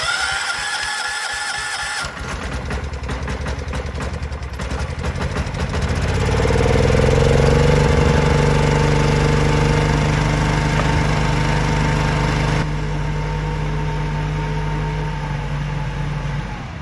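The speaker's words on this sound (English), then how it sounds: "I just want to get it running a little bit, let it run" A John Deere 210 lawn tractor engine starts and settles into a steady idle, a loud, continuous close-up drone with a strong low hum that holds until the end.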